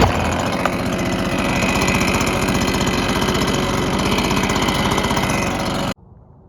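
A small engine on a cheap backpack blower runs loud and steady at close range with a rapid pulsing drone while its carburetor is adjusted, then cuts off abruptly near the end.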